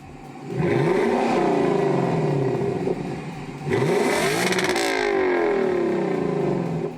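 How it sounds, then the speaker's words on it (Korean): A 2024 Lexus LC 500's V8 engine revs twice in long, rising surges, its deep throaty exhaust roaring loudly close by with no talking. "역시 V8 사운드는 환상적이죠?"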